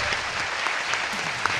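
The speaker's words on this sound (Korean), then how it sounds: "박수 좀 부탁드리고요" An audience in Gwangju claps steadily for a guest at a political talk event, a dense, even wash of applause with no pauses.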